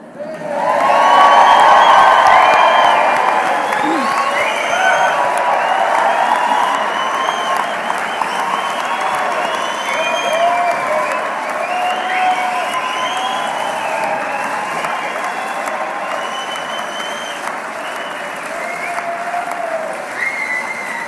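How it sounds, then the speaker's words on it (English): An audience at the Wirral Met HE Awards 2016 bursts into loud sustained cheering, whooping and applause, peaking at the start and then holding as a dense wall of clapping and shouts for about twenty seconds. "this is where you get to give the biggest cheer you can"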